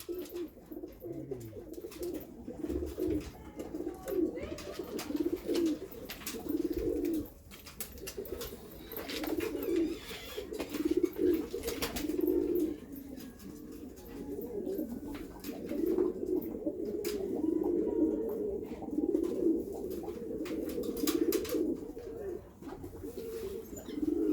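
Pigeons coo steadily in a loft, a blue racing pigeon among them, with overlapping low throaty calls rolling on through the whole stretch and occasional faint flutters and knocks mixed in.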